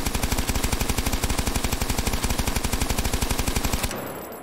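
A machine gun in the VR shooting game H3VR fires a loud, rapid, evenly spaced stream of shots for nearly four seconds, then stops abruptly and leaves a short decaying tail.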